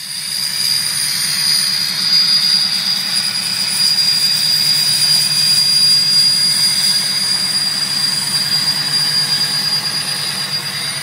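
A Ford Powerstroke 6.0L diesel engine with a loud, steady high turbo whistle held over a constant low engine rumble throughout, with no talk.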